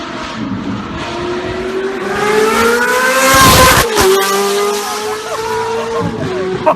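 A Ferrari F430 with straight pipes, test pipes and an S-line exhaust revving hard, a loud, rising high-pitched wail with sharp upshifts and crackles, close and alone.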